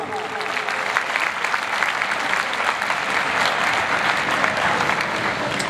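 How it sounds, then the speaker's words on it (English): A room full of people at a conference and prize distribution ceremony claps steadily and loudly, sustained applause lasting throughout without pause. "A huge round of applause for Mr. Atif Jamil Khan."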